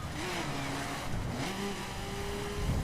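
In The Crew: Wild Run, a car engine revs and holds a steady drone while drifting around switchbacks, with pitch rising and settling between shifts under a constant wash of tire and road noise.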